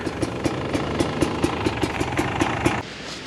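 A cold Beta 300 dirt bike with a Smart Carb idles without choke, its two-stroke engine thumping in an even, close, loud beat before the sound suddenly drops off.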